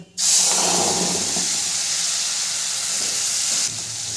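Ground pea paste with cumin powder hits a hot pan and sizzles loudly at once, a steady close hiss of frying that holds for several seconds before easing slightly.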